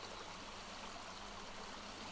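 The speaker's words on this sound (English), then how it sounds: "You then hear the sound of the waterfall again, gently pouring into the pool" A waterfall pours into a pool with a constant, even rush of falling water, soft and unbroken throughout, with no other sounds.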